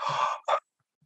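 A sharp breath drawn through the mouth followed by a shorter second breath, close and loud, then silence.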